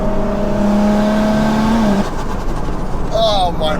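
A 700 hp single-turbo BMW wagon engine revs up under hard acceleration, its drone climbing in pitch before a gear change, with excited voices talking over it.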